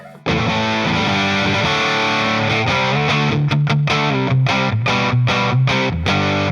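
Loud distorted electric guitar through a Laney LA-Studio amp playing sustained chords and choppy notes, with a touch of reverb trailing after each stop.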